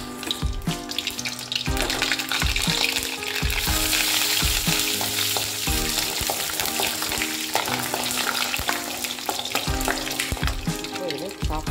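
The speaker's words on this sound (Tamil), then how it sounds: "உளுத்தம் பருப்பு, கொஞ்சமாக கடலை பருப்பு போட்டு நல்லா தாளிச்சுக்கலாம். இதில் இந்த கருவேப்பிலை ஆட் பண்ணிக்கலாம்." Urad dal, chana dal and curry leaves sizzle and crackle steadily in hot oil while being stirred, a dense continuous frying hiss with clinks of the spoon against the pan, close and loud throughout.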